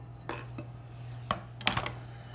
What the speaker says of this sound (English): And I'm going to put them into my bowl.